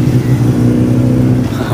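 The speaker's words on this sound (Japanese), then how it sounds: "バイクの音がうるさいな。" Loud motorcycles passing on a road near Mount Fuji, a continuous revving engine roar that stays strong and close throughout.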